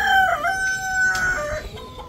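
A brown hen clucks loudly and close by in a short, excited run of calls, alone and with no talk.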